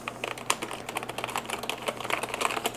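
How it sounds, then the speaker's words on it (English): Typing on the membrane keyboard bundled with an iBuyPower SlateHAKO gaming PC, a quick irregular run of soft key clicks, close and fairly quiet, with no voices. "So they send you with a membrane keyboard"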